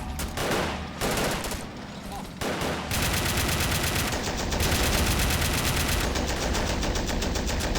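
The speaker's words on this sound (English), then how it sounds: "That turret 50 is nasty." A .50 calibre turret machine gun hammers away in Men of War: Assault Squad 2 during a custom battle, sustained heavy automatic bursts with short gaps, loud and close, with other battle gunfire mixed in.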